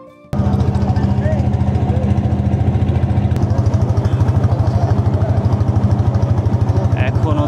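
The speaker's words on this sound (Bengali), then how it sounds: "এখন হচ্ছে আমাদের নৌকা ছেড়ে দিয়েছে।" A river boat's engine, leaving for a char island in Rajshahi, thumps loud and close in a fast, even rhythm that starts abruptly and runs steadily throughout.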